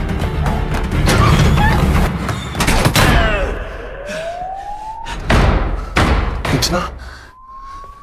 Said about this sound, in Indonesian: karena terdengar sirene polisi